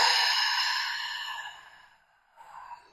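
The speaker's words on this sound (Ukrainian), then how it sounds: "Давайте попробуємо носом вдих і ротом видих." A long, breathy exhale through the mouth during a gentle exercise routine for beginners, fading over about two seconds, then a short, softer breath after a pause, close and alone.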